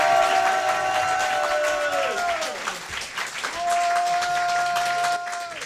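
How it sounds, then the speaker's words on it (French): An audience applauds a stand-up comedian being welcomed to the microphone, with steady clapping and crowd noise under loud tonal music or stage sound. "je vous demande d'applaudir très fort celui qui va prendre ce micro"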